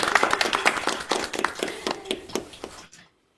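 A run of about a dozen sharp hand claps in an uneven, quick rhythm, fairly close and moderately loud, then stopping abruptly into silence.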